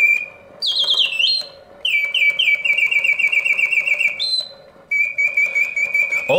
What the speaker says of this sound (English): The bird sings with full voice, hitting all of the proper oscillating notes, yet the mechanism runs smoothly and quietly.